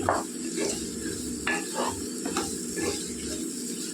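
Raw banana pieces and onions for an Andhra-style curry stirred in a pan, a soft continuous sizzle under irregular scraping and clinking of the spoon, fairly quiet and close.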